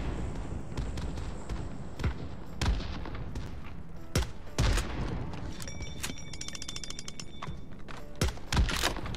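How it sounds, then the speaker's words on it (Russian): PUBG Mobile gunfire in the Payload x War mode, sharp rifle shots in irregular bursts and single cracks over a mechanical game background, loud and close, with no talking. "Я прям в упоре его, уже в упоре его расстреливаю."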